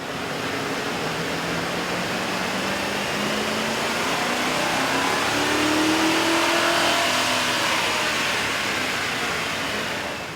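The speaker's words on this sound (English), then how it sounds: "Here's a comparison of the sound of the truck on the dyno with the stock OEM system versus" A stock 2005–2008 Ford F150 with the 5.4L V8 and factory OEM intake revs steadily on a dyno, its engine note climbing and holding at a loud, close, continuous roar for about ten seconds, with no voices.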